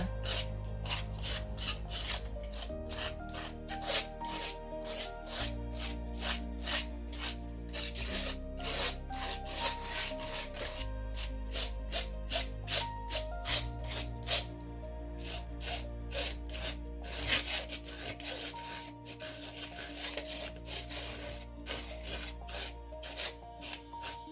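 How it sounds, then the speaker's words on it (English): Crinkled aluminum foil scrapes across a painted mini canvas in a steady run of rough rasping strokes, up close and fairly quiet, over a background of soft music, no talk. "this time I'm going to use kind of a crinkled up piece of aluminum foil and see how I like that effect. Scraping it in here."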